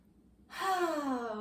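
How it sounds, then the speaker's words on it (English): A long, steady inhaled breath during a low-impact core workout, starting abruptly and swelling into a breathy, slightly voiced sigh that holds fairly loud and close to the end. "Take a deep breath in"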